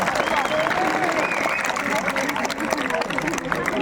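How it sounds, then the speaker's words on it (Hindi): A college kabaddi championship audience claps loudly and steadily, a dense wash of applause with crowd chatter and raised voices mixed in throughout. "अगर बहुत अच्छे लगे हो तो थोड़ी जोर से तालियां बजा सकते हैं"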